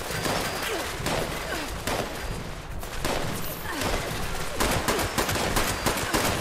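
Automated turrets on a building firing in the video game Fallout 76, dense rapid bursts of gunfire that continue throughout, loud and unbroken, with a voice talking faintly underneath.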